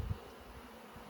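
Honey bees buzzing in an open beehive during an inspection, a soft, steady droning hum close by after a brief thump at the start.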